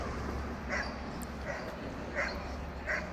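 Sled dogs, huskies at a dog sled ride site in Alaska, give a few yips and barks at regular intervals, fairly distant and faint over a steady low outdoor rumble.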